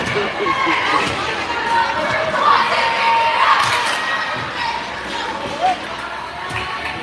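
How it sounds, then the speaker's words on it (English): Volleyball crowd at a junior varsity school match, a dense, steady roar of cheering and chanting voices with shouts rising and falling throughout, fairly loud and close, with occasional thuds. "Got some UCA chants going on, and the crowd's getting back in it."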